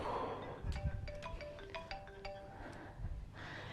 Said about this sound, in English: My phone's going off.